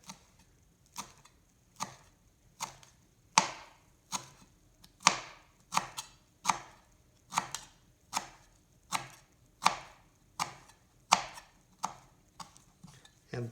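A straight knife chops a balled-up bunch of cilantro on a cutting board in a steady rhythm of crisp, close thuds, roughly one per second, with nothing else heard.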